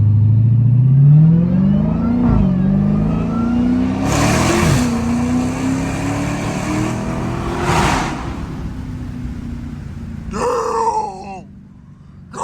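Dodge Hellcat V8 driven through downtown streets at night: a loud, close engine surges through rising revs, with sharp blips and a rev-matched downshift, then a brief tire squeal near the end as the roar drops off.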